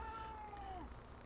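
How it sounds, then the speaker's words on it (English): A cat lets out a single faint, drawn-out meow that slides downward in pitch, heard against a steady low background hum. "If there isn't one cat, it's another one."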